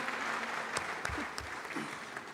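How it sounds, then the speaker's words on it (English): Panelists at a large annual banking meeting receive a dense, sustained round of applause from the audience, steady and full for the whole stretch. "A huge round of applause for our panelists."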